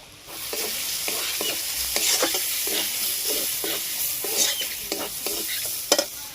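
A spice masala of red chili powder, salt, turmeric and garam masala frying in a pan for a bottle gourd and peas paneer dish, with rhythmic spatula strokes scraping over a steady close sizzle.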